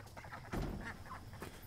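Ducks being fed call out in a few short, faint honking quacks, one slightly louder burst in the middle, with no talking.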